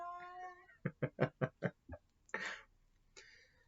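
A cat meows in a quick string of five or six close, loud, tonal cries, followed by a couple of rougher, breathy calls.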